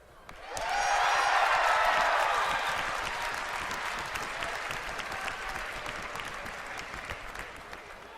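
A BlizzCon audience applauds and cheers in a large hall. The applause swells quickly into a loud, sustained roar, then gradually tapers off.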